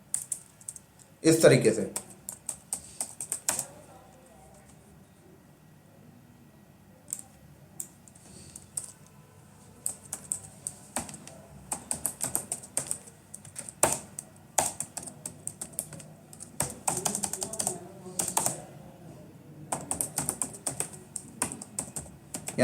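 Fingers type on a computer keyboard while writing a Terraform resource file, bursts of rapid key clicks with pauses between them as someone talks in Hindi over parts of it.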